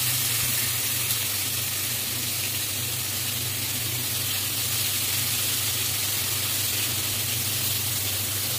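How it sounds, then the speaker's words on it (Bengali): Slices of pointed gourd frying in hot oil in a home kitchen give a steady, even sizzle and hiss that holds without a break, close and moderately loud, with no speech over it. "মাছ ভেজে নিচ্ছি ওই তেলে আমি ভেজে নিব পটল"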